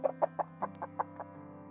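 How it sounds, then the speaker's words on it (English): A hen clucks in a quick, even series of short notes, close and clear, over a faint steady background hum. "Hen."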